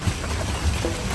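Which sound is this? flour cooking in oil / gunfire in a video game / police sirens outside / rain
rain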